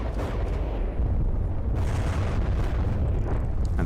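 Missile explosions in the From the Depths campaign, heard as a continuous dense low-end rumble of overlapping booms and blasts that stays loud and steady throughout, with no clear gaps between bursts.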